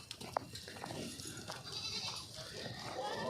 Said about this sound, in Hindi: ये शाह साहब ने ये बकरी निकाल के लाए अंदर से